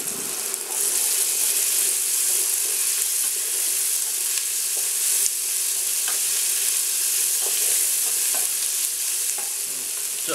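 Onions fry in olive oil in a pan, giving a loud, steady hiss and sizzle close up, dotted with faint crackles and a few scraping stirs, with no talking.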